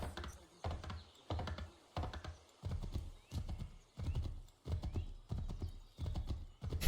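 Rhythmic hoofbeats of a galloping horse in Assassin's Creed III repeat steadily throughout, with a clattering, synthetic game-like quality and no voices.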